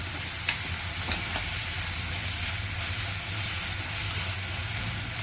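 Onion and crushed garlic frying in a pan for a Marathi vegetable dish, giving a loud, steady close sizzle and hiss throughout, with a few faint clicks on top.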